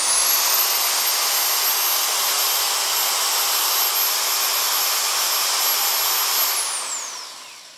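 ALDO BLT1008 corded drill spinning with no load: a loud, steady high-pitched motor whine that holds for about six seconds, then winds down as the trigger is released.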